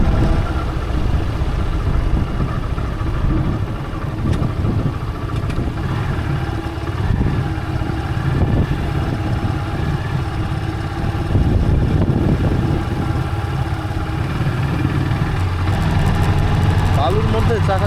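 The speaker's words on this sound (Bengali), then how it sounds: "বালুর মধ্যে স্কিড করে করে বাইকটা চলতেছে" A Yamaha FZS-V2 motorcycle rides through sand, its engine droning steadily with muffled, uneven rumbling throughout, while wind noise and a person talking sit over it.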